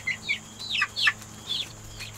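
Chickens at a backyard coop give a string of high, bright clucks and short calls in several bursts, close by and alone over a low steady background hum.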